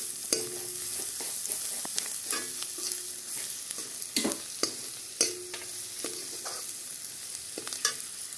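Spices with turmeric frying and being stirred in a pan: repeated sharp scrapes and clinks of a spoon against the metal over a soft, steady sizzle, close and fairly quiet.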